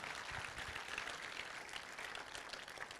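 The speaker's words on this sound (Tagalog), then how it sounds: "Come on, sige po, malakas na palakpak" Steady applause from a church congregation, a dense wash of many hands clapping, fairly distant and even throughout, with no voices standing out.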